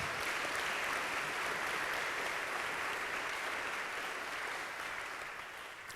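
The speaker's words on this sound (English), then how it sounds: "Can we give a round of applause for that?" Applause from parents at a classical Christian school conference, heard faint and distant as a steady wash of many hands that tapers off at the close.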